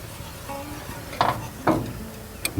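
A spoon scraping and stirring a ketchup and honey barbecue sauce in a pot, with two distinct scrapes against the pot among soft background noise.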